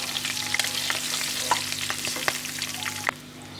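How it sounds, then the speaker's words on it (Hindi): Green chillies slit lengthwise fry with cumin seeds in oil over a low flame, giving a close, continuous crackling sizzle broken by repeated spatula scrapes and taps, with a steady background hum. "इसको हल्का सा भूनेंगे तकरीबन 1 मिनट तक लो फ्लेम पर"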